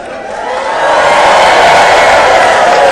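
A loud, steady roar of cheering and whooping from a live improv theatre audience builds over a second and holds at full strength.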